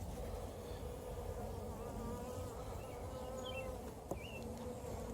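Honeybees buzz steadily around an open beehive during a suitless hive inspection, a dense close swarm drone that holds throughout with a brief tap near the end and no talking.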